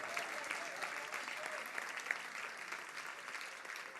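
Church congregation clapping in praise during a Spanish-language sermon, a steady dense wash of many hands sustained throughout at moderate level, with faint voices mixed in.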